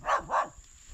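A dog gives two quick, sharp barks close by near a cobra in a pumpkin patch, then falls quiet.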